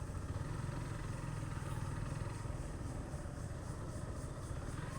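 A motorcycle rides steadily through the forest of Modhupur National Park in Bangladesh, its mid-pitched engine droning continuously and close, with a light clattering texture and wind noise throughout.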